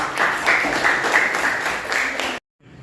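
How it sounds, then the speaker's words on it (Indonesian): Students in a junior high school classroom applaud, a brief burst of mixed clapping that cuts off abruptly, leaving near-silence with faint background sound. "Oke, beri tepuk tangan."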